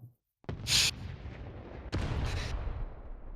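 A tank gun in a competitive tank video game fires two heavy booming shots about a second and a half apart, each with a sharp crack and a long rumbling tail, with no talk.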